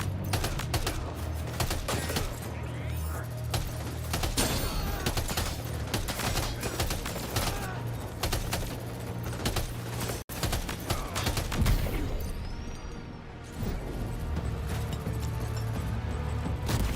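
Sustained gunfire in the video game Death Stranding 2: dense, rapid bursts of shots rattling almost continuously for many seconds, loud and close, with a short break before the firing resumes.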